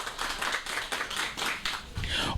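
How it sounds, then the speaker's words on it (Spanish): Audience applause opening an outdoor arts-week conference in a main park, a moderately distant crowd clapping in steady waves that swell and dip over a couple of seconds. "Brindémosle un aplauso grande para comenzar esta gran conferencia"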